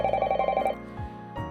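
A landline telephone rings in the living room of a quiet house, its repeated electronic trill pulsing steadily for a short burst before cutting off, with no talking.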